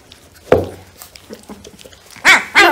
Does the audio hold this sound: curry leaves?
no